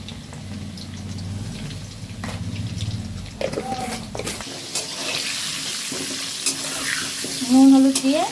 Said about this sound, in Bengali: নুন হলুদ দিয়ে ভালো করে আলুগুলো ভাজতে হবে।